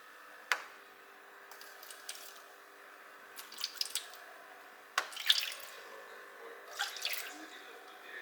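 About 150 ml of warm water added to a yeast dough mix, heard as scattered close drips and small wet splashes against a quiet background, with no talking.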